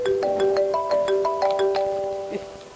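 A phone ringtone plays a bright, repeating electronic melody of chiming tones, fairly close, fading slightly toward the end.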